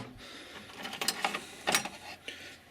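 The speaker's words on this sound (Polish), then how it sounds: "Lepiej sobie odkręcić grzechotką" A ratchet wrench loosening a bolt during valve adjustment on a Honda 1.8/2.0 engine clicks in a few quick bursts, a nearby mechanical ratcheting with short pauses between strokes.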